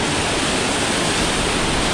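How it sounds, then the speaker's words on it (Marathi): Monsoon water pours under heavy pressure down the stone steps of Visapur Fort, a steady, loud, unbroken roar of rushing water with no voices. "या पाण्याला लईच जरा म्हणजे जास्त प्रेशरनी पाणी येते खाली."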